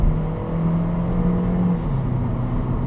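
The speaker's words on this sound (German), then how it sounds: "Ein bisschen Gas geben jetzt endlich." A car accelerating on a road in a driving game or drive, with a steady engine drone that rises slightly in pitch, continuous and fairly loud, with no talking.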